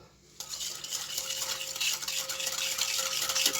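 Spices and salt stirred into water in a bowl for a crispy chicken marinade, a spoon scraping and clinking continuously against the bowl, close and fairly quiet, with no one talking.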